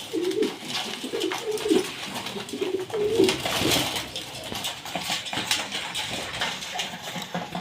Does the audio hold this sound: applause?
no